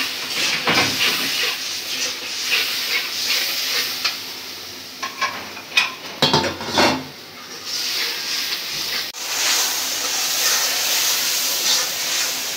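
Spice paste flavoured with hilsa fish masala fries in a pan, a loud steady sizzle and steamy hiss, broken midway by a burst of close scraping and stirring strokes before the frying settles back to a constant hiss.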